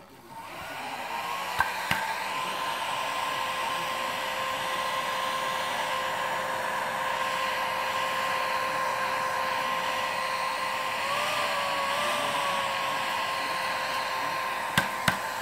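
Heat gun blowing on acrylic paint, a steady close whining drone with a fan-like hiss that holds level throughout, shifting slightly in pitch near the end, with a few sharp clicks and no talk.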